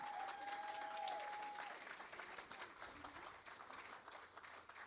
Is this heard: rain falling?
no